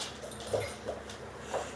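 A dog whimpers in a few faint, short whines spread over under two seconds, heard against steady background noise with no one talking.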